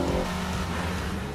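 A 2015 Jeep Cherokee Limited engine roars as it accelerates, a loud, continuous revving drone heard up close with no voices over it.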